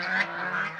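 A domestic goose (rajhash) on a village duck farm lets out a sustained, close, brassy honk that wavers slightly in pitch across its brief length.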